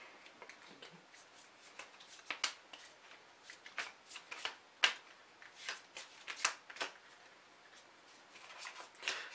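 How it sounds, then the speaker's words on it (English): Yu-Gi-Oh card deck being shuffled by hand, close and crisp, in a run of quick riffling bursts and taps with short pauses between them. "Before we get to the main duel, of course, we got to shuffle these decks up."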